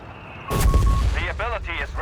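Mortar fire in the Company of Heroes 3 video game lands as a sudden loud blast and rumbling impact, followed by crackling battle noise while a commentator's voice continues.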